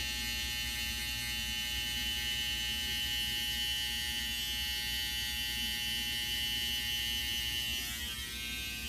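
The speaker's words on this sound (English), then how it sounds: "You can use the trimmers now." Electric hair trimmers buzzing steadily close up while trimming a beard, a constant whirring drone with a slight change in pitch near the end, no talking.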